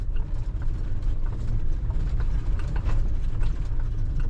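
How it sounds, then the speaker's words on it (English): A vehicle towing a camper drives slowly and makes a U-turn at a campsite, with a steady low engine rumble and road noise from inside the cab and light rattling over uneven ground. "I'm gonna pull down here and just make a U-turn."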